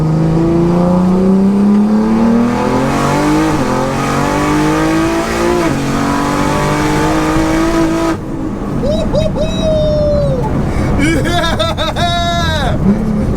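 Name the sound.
1400bhp BMW launching and accelerating hard through gears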